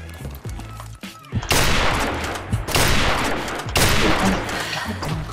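Heavy gunfire in Call of Duty: Modern Warfare Remastered, a 1v1 match, with dense bursts of automatic fire and loud repeated shots starting about a second and a half in and continuing to the end.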